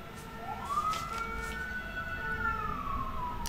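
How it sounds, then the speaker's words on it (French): An American-style emergency vehicle siren in Épernay, France, sweeps up into a single long wail that holds and then falls away. It sounds moderately distant over a low rumble of street noise, with no voices. "maintenant, on a les sirènes américaines en France, hein, à Épernay"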